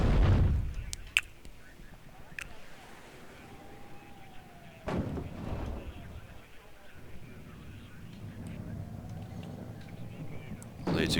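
Heavy booming blasts and gunfire from the Warno video game during a laser-guided bomb strike, one big thud at the start and another midway, with someone talking over the battle noise throughout.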